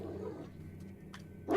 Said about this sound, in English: I will tackle on the dogs.